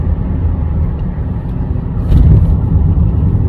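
Steady low rumble of a car engine heard from inside the cabin while driving, holding an even drone with a slight swell partway through; no one speaks.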